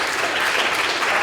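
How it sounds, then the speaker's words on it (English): Audience at a city charter reform commission public meeting claps, a brief, dense burst of steady applause filling the room. "The more people clap, the less time we'll have for individual speakers."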